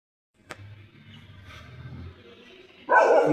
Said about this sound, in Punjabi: ਲੜੀ ਜਾਂਦੇ ਆ ਕੁੱਤੇ